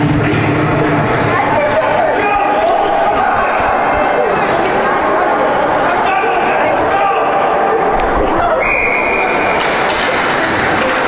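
Hockey arena crowd during a Bantam B2 third-place game, a steady loud roar of many voices filling the rink for the whole stretch, with a brief high whistle-like tone near the end.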